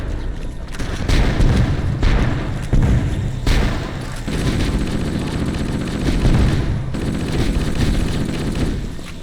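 Assault rifle fire in Halo: Combat Evolved during a fight against the Flood, loud sustained automatic bursts with heavy booming impacts, nearly continuous with brief pauses between volleys.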